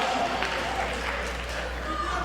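A wrestling crowd at a Ring of Honor show keeps up a steady wash of applause and cheering, dense and fairly distant, from start to finish.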